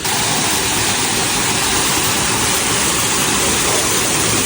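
Waterfall reached after a two-hour trip, pouring as a loud, dense, continuous roar of rushing water, heard up close with no voices over it.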